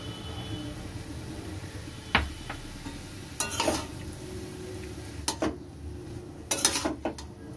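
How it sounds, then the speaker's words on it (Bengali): Chow mein noodles with soy sauce and salt get stirred and tossed in a pan, giving occasional utensil scrapes and clinks against the metal over a low background, with no one talking. "চাউমিনটা মিশে যাওয়ার পর একদম ভালো করে মিশাতে হবে"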